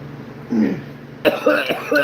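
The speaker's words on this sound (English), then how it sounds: "wanted to clip me smoking and coughing" Person coughing and clearing their throat after smoking a cigarette, a few short rough bursts close to the mic, mixed with low murmuring voice.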